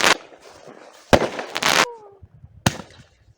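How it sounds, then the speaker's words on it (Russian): Fireworks set off outdoors at a New Year village celebration, several sharp loud bangs and crackling bursts in quick succession, with a brief whistle between them and faint voices in the background. "Мои дети сами купили салют и хотят стрелять."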